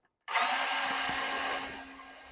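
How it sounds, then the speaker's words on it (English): Power drill bit cutting slowly through a metal skid plate on a Ford Transit, a sudden steady whine with a constant tone that holds for about two seconds, close and loud. "You want to kind of get that bit just turning at a slower rate, and it's just going to cut through nice and clean."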